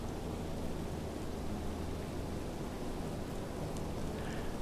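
Steady simulated rain in Microsoft Flight Simulator around an A320neo parked at the gate, a dense, even hiss of rainfall with a low rumble beneath, constant throughout and without speech.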